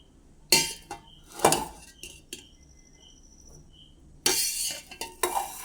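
A ladle scrapes and clinks against a pot while stirring garlic rice, with sharp scraping bursts separated by quiet pauses, close and moderately loud.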